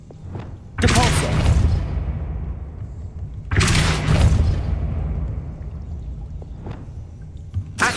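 Two heavy whooshing blasts from the Depulso spell in Hogwarts Legacy, each a sharp loud onset that decays over a couple of seconds, with a low rumbling game ambience between them.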